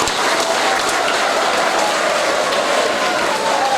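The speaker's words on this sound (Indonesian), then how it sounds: "Tepuk tangan sekali lagi buat SHT" Dense, sustained applause from a large crowd at a night-time Suran ceremony and new-member inauguration for the PSHT martial arts brotherhood, loud and continuous like heavy rain.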